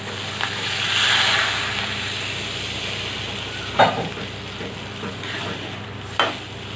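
Liquid poured into frying spices for a banana flower gravy, a low simmering sizzle with a few sharp spoon knocks and stirring clatters, no speech.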